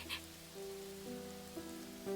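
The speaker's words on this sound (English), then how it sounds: "Amid the pitter-patter of the rain, Rahu catches a soft, low murmur." Soft, steady rain patters on a surface throughout, faint and close, with a low sustained hum beneath it and no voices.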